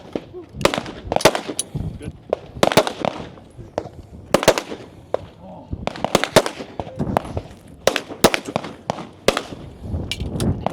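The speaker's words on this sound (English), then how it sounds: "ahead just slightly in front of Marco, the first to start shooting his pistol" Pistol fire at a practical shooting match stage cracks out in rapid clusters of sharp, loud reports with brief pauses between strings, recorded outdoors, with a voice faintly in the background.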